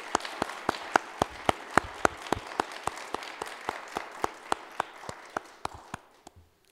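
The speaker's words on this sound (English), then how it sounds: "a special round of applause for someone who otherwise may not get his own" A single pair of hands claps in a steady, even rhythm for the accompanist at a UMGASS benefit concert. The claps are sharp and close, quiet overall, and fade out at the end.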